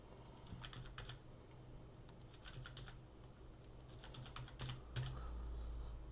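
Keys on a computer keyboard are tapped in short irregular clusters during terrain work in Houdini, quiet and close, with small pauses between bursts of keystrokes and no talk.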